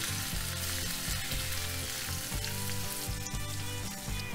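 Onions and split green chillies frying on a medium flame for Hyderabadi paneer masala, a steady loud sizzle with rhythmic scraping stirs throughout, no voices.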